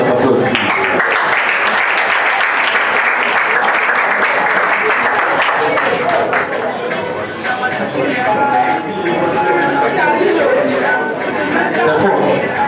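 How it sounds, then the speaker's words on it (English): Audience at a national debate championship final applauding during a prize giving, loud sustained clapping with crowd chatter and voices mixed in. "With a very big round of applause."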